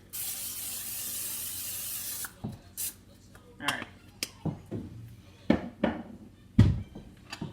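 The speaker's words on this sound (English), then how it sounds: "you're gonna spray your pan generously because they stick" A hissing cooking spray coats a pan steadily for about two seconds, then scattered clinks and scrapes of the pan follow, with faint talk in the background.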